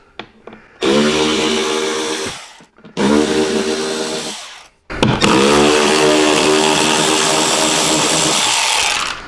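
A power tool drives out the screws of a motorcycle saddlebag hinge cover in three bursts, two short whirring runs followed by a longer sustained one, each starting sharply, close and loud with no talk.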